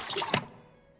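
Milk poured into a bowl in Bakery Simulator, a short liquid splash lasting under half a second that quickly fades to quiet.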